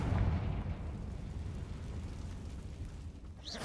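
A Confringo fire spell blasts in the Hogwarts Legacy video game: a loud, deep boom opens, then a sustained rumbling roar carries on, with a brief rising whoosh near the end.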